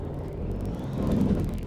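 Heavy truck engine on a mid-1980s Volvo White tractor, a low, steady diesel rumble with rising loudness near the end, consistent with engine braking; no talk.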